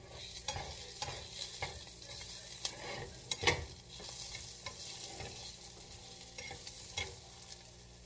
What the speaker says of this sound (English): Trying to saute the onions.